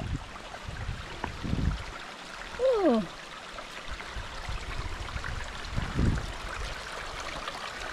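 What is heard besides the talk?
stream at a trail water crossing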